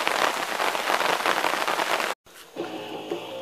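Rain falls on a tarp at a wilderness camp, a dense, loud patter that fills the space. It breaks off for a moment and then comes back as a softer, thinner drumming.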